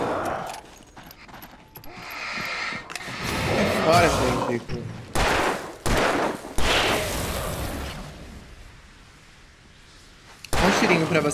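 Gunshots fire in the Alan Wake video game as several sharp, loud bursts spread over the clip, mixed with someone talking and other game sounds.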